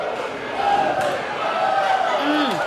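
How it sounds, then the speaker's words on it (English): A wrestling crowd roars and cheers steadily as two wrestlers trade chops in the ring, a dense wash of many voices with a few rising shouts over it. "The crowd is going crazy"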